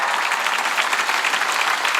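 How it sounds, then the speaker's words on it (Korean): A church congregation at a Sunday worship service clapping hands together, a dense, loud, continuous burst of many hands filling the room, no speech. "빨리 박수 치라고. 더 세게 쳐."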